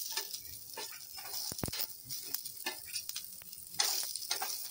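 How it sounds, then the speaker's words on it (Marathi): Chopped onion frying and browning in a pan for a misal masala, a steady close sizzle with soft crackle and occasional stirring scrapes throughout. "कांदा थोडासा लालसर करून घेऊया"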